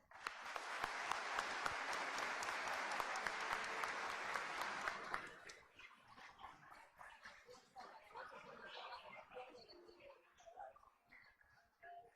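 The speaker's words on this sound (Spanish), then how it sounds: "Aplausos, por favor." A large audience at a public ceremony applauds honorees with loud, dense clapping for about five seconds, then the applause thins into scattered claps and murmuring.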